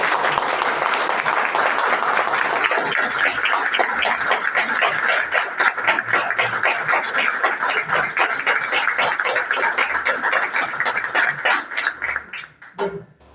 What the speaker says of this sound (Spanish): Y vamos a dar un gran aplauso.